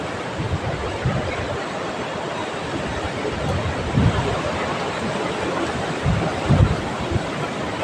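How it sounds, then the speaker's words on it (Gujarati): Strong gusty wind roaring across open farm fields during a storm with little rain, a dense continuous rush with heavier low buffeting bursts against the microphone, no voices. "વરસાદ તો ઓછો હે પણ પવન ઘણો આમ ભૂકા બોલાવે"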